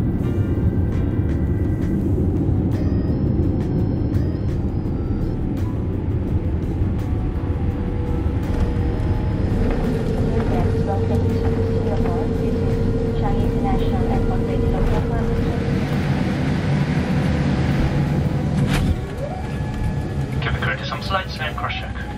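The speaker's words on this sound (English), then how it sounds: "we are finally touching down at Singapore Changi Airport" A Royal Brunei Boeing 787-8 Dreamliner touches down at Singapore Changi, heard from inside the cabin as a steady, loud engine and airflow rumble with rising reverse-thrust roar near the end, under occasional speech.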